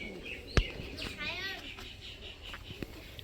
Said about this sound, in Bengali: বাচ্চা পায়রা